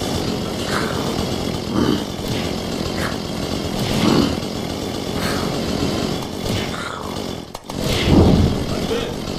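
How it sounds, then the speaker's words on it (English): A chainsaw wielded as a weapon in a video game revs and snarls in rising and falling surges, loud and close, with a voice talking over it. "A chainsaw!"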